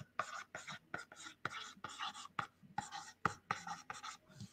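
A marker squeaking and scratching in short rhythmic strokes across a whiteboard, close up, with soft whispered talk mixed in.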